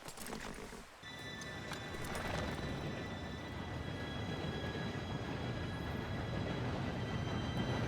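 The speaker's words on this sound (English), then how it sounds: "Train should be here any minute now." A steam train arrives in the video game Red Dead Redemption 2, a steady rumbling rattle of wheels on rails with a sustained high squeal of brakes, rising slightly as it draws near.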